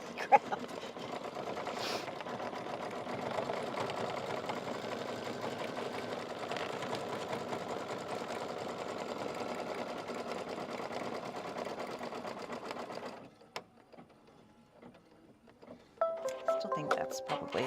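A sewing machine stitches fabric in a steady, continuous whirring hum at moderate volume for about thirteen seconds, then stops briefly before a short burst of stitching resumes.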